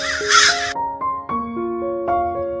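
Crow chicks caw loudly and close at the start, followed by a string of steady tonal notes.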